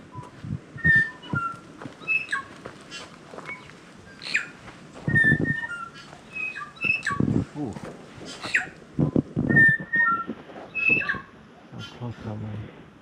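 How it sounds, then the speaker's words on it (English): Clear, bell-like notes and whistles of a bellbird ring out repeatedly in Catlins forest, New Zealand, under intermittent talk, with short exclamations breaking in between the calls. "We can hear a bellbird,"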